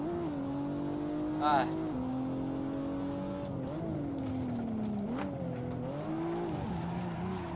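In Assetto Corsa, a Supra TA90 race car's engine drones steadily, rising and dipping in pitch as the throttle lifts and reapplies through corners, with a brief higher whine midway and a voice talking over it.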